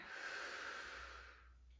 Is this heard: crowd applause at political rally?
no